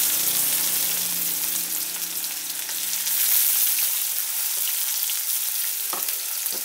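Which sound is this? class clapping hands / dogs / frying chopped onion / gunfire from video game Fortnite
frying chopped onion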